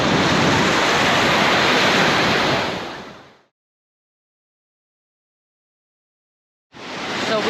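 Surf on a Lake Michigan beach at Indiana Dunes makes a loud, broad rush of waves and wind that drops out completely for a few seconds, then returns.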